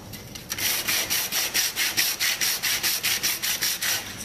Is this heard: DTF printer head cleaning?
no